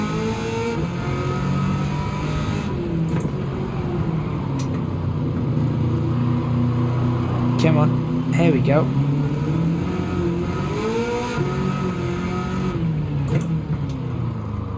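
A 900 bhp Chevrolet Camaro ZL1 in Gran Turismo 7 holds a loud, steady engine drone with rises and falls in pitch, while someone talks over it throughout.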